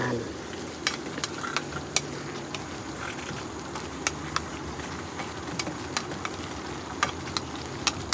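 Fried salmon sizzling in a pan with eggs and tomato makes a steady, moderate frying hiss, with small crackles and pops scattered throughout at close range.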